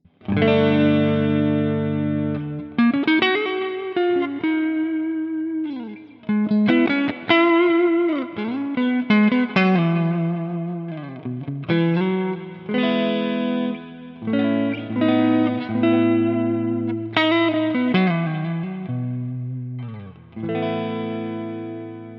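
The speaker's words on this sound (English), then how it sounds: "So the clean tone sounds like this." Clean electric guitar, played through an Ampero II Stomp, plays a slow melodic line of single notes and chords, each one trailing into delay repeats and a spacious reverb wash.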